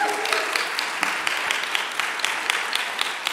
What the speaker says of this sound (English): Come on, everybody clap because we need it.